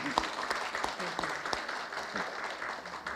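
Colloquium audience clapping for the first career-diplomat woman to become ambassador, a short burst of brisk applause from a crowd with a voice faintly underneath.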